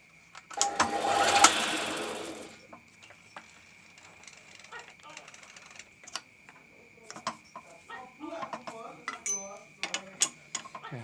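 A custom-built special-purpose machine runs with a loud mechanical burst at the start, then settles into rattling, clicking and ratcheting sounds at close range.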